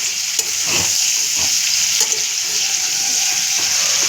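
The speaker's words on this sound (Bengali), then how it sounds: "আমি কিন্তু চিকেনটা ভেজে নিচ্ছি" Chicken sizzling continuously in hot oil while being fried for chicken paturi, a close, loud, even crackle with light scraping of stirring and no talk.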